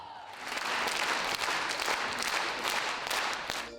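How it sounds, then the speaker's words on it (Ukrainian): A packed hall bursts into dense, sustained applause for a Ukrainian folk dance ensemble's concert number, steady clapping from many hands rising quickly and holding loud throughout. "І після кожного номеру вибух овацій від глядачів."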